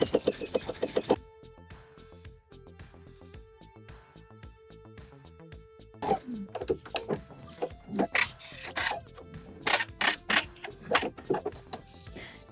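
A sewing machine stitches a curved pocket seam for elastic-waistband shorts, with rapid mechanical needle clatter in short bursts broken by pauses, getting louder and choppier toward the end.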